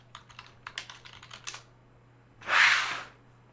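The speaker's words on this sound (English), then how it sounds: "This keyboard." Rapid keystrokes clatter on a computer keyboard in a quick burst, then a single louder, longer press or rustle follows after a short pause, close and alone without talk.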